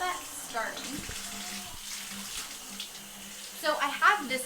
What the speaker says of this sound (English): now we're gonna go ahead and start the water